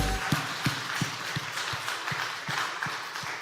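Church congregation applauding during a Sunday praise concert, a steady wash of clapping with regular rhythmic beats, moderately distant and filling the room without speech.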